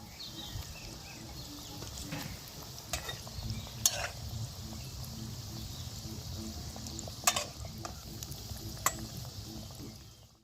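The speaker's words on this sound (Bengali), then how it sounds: "চপটা ভাজা হয়ে গেছে এবার আমি এগুলোকে উল্টে পাল্টে ভেজে নেব" Oil sizzles and crackles steadily as cabbage chops fry in a pan, with occasional clinks of a utensil stirring close by.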